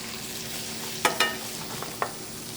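A T-bone steak pan-frying in fat gives a steady sizzle and hiss, broken by a few sharp clanks and pops from the pan, with no talking.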